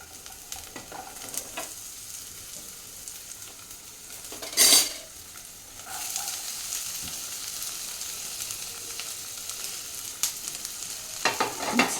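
Cabbage, carrot, capsicum and beans stir-fried in a pan, a steady sizzle with occasional scraping and a short clatter of a utensil, close and continuous with no talking.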